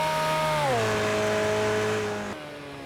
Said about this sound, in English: See, this car has proper Doppler.